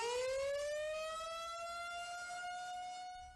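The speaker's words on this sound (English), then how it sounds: "The specific guidelines for sounding sirens like the one you see right there varies from county to county" An outdoor civil-defense tornado warning siren sounds a loud, sustained wail that rises slightly in pitch and holds steady, fading a little toward the end, with no voices.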